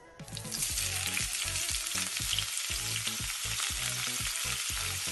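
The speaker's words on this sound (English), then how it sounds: "Once they are coated, we will shallow fry so they don't peek out" Chicken potato cutlets coated in egg and breadcrumbs shallow frying in oil, a sizzle that starts suddenly and rises to a loud, steady crackle with rhythmic low thuds, no speech.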